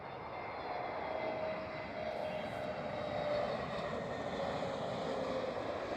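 An Aer Lingus Airbus A321 XLR arrives at Amsterdam Schiphol, its engines giving a steady, fairly loud roar with a faint high whine running through it, no speech present.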